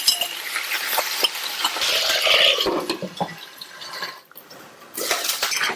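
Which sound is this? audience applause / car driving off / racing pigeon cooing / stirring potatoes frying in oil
stirring potatoes frying in oil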